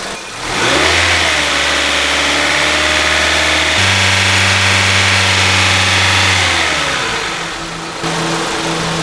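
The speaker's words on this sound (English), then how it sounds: "hold the engine at around 2500 RPM" A Honda CR-V engine revs up and holds a steady, loud drone at around 2500 RPM, the pitch shifting slightly once partway through before easing back.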